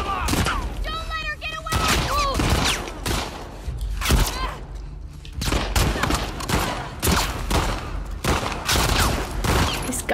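Gunfire from The Last of Us Part II erupts in repeated sharp shots and bursts, some close and loud, spaced irregularly through the scene, with a voice briefly heard early on among the blasts.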